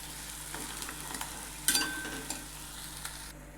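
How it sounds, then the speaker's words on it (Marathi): Ground masala paste sautéing in oil in a pan for a spicy drumstick vegetable curry, a steady close sizzle with a few soft scraping stirs and one sharper clatter midway, no talking. "आता इथे वाटण छान परतून झालेलं आहे बघा, साईडला तेल सुटायला लागलेलं आहे"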